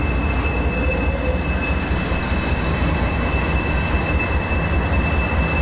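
FXE locomotive 9443 rolls past with a loud, steady rail rumble and a constant high whine held throughout, close by and unbroken.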